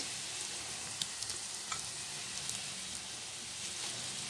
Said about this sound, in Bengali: আগে আমি কড়াইতে সরষের তেল দিয়েছি, তেলের মধ্যে দিয়েছি পেঁয়াজ।